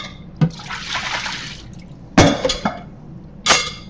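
Strawberries and lemons are rinsed under running water from a tap. A steady splashing hiss is broken by a few louder clunks and knocks, close by, with no talk.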